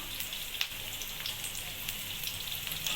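Lightly salted tapioca frying in hot oil while being stirred: a continuous, close, hissing crackle, with faint scraping from the stirring, and no voices.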